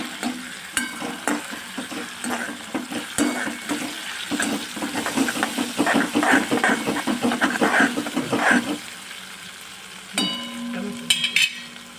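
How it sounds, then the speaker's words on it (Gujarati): Chopped hot green chillies sauté in a pan for farali suki bhaji, giving a continuous sizzle broken by repeated scraping stirs that build louder through the middle before easing off near the end. "હવે આપણે બધું સાંતળી લેવાનું છે"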